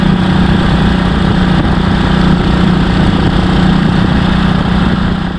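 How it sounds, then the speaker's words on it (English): Old motorcycles opening up on a wet country road, a loud, steady engine drone held close for the whole stretch with no talking. "we can open up the bikes a bit"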